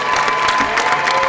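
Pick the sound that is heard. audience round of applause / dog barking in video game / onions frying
audience round of applause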